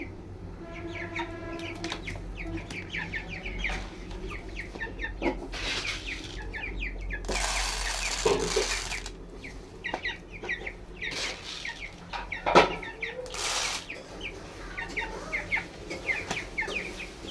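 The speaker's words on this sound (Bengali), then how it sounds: "আমি এখন মুরগিগুলা খাবার দেব" Several chickens cluck and squawk at close range in a yard while being fed, with bursts of flapping or scattering and irregular calls throughout, no talk.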